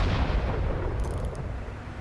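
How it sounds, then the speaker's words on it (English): A tank cannon shot strikes a KV-85 in a tank battle video game, a dense, booming low rumble that fills the whole moment and fades slightly toward the end. "Managed to get a shot into that KV-85."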